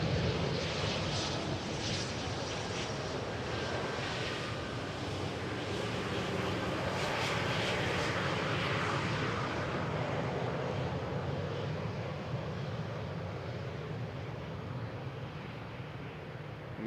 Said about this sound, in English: The Embraer vacating the runway over at the first exit